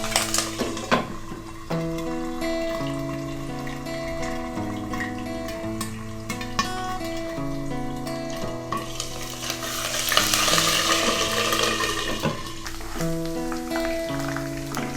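Onion paste frying in warm oil over low heat for hilsa fish pulao makes a gentle sizzle and stirring under prominent melodic background music, with the frying rising a little toward the middle.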